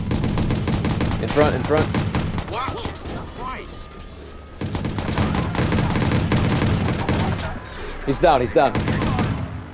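Gunfire in a shooter video game match, repeated sharp shots and rapid bursts crackling throughout, mixed under frequent talking from players.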